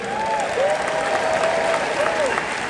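An audience at a live speaking event gives sustained, loud applause that fills the room, with a whistle or cheer rising over the dense clapping.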